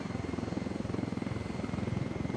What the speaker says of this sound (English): we were flying a helicopter